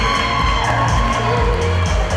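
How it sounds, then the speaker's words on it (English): Applause and cheering from a pageant audience, with a steady dense wash of clapping and crowd noise and scattered whoops filling the whole stretch. "let's give a big round of applause"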